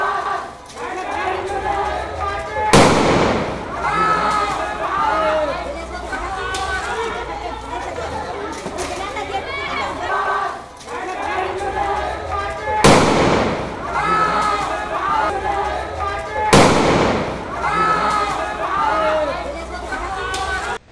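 Gunshots fired into the air at night during a property dispute ring out as several sharp, loud cracks spaced seconds apart over a background of crowd chatter and voices.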